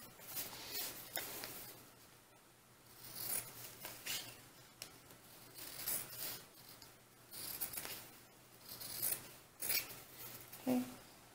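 Scissors snipping through fabric to cut out a doll dress pattern piece, a series of quiet irregular close-up cuts and rustles with no talking.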